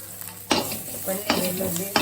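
Garlic frying in hot oil in a pan, a continuous close sizzle broken by three louder scraping stirs of a utensil against the metal.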